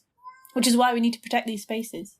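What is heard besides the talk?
cat meowing loudly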